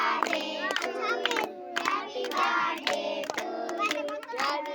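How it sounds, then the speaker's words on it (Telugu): Rhythmic hand clapping from a small family group around a birthday cake being cut, bursts of claps with short pauses, close by, with children's voices and chatter mixed in. "కొట్టండి తప్పట్లో కొట్టండి"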